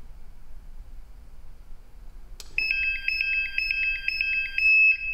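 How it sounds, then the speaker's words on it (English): A portable atmospheric gas monitor used in confined-space rescue triggers its audible alarm: a click, then a shrill, rapidly pulsing electronic beep that repeats steadily for a couple of seconds over quiet background hum. "give the atmospheric monitor an opportunity to alarm and go into that audible and visual alarming mode when it does not move"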